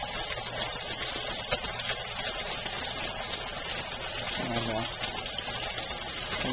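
Water gushes steadily into an aquaponic grow bed, a constant close rushing pour with a faint voice briefly under it.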